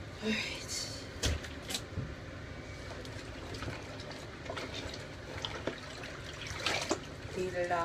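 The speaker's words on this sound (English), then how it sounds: "okay, we're just squeezing the water out" Water drips and trickles as a white towel is hand-washed and squeezed, close splashes and wet squelches arriving in irregular bursts with handling knocks between them.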